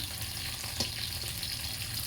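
Fish fry in a home kitchen pan with a soft, even sizzle that stays low and steady throughout, heard from a little distance with one faint clink in the middle.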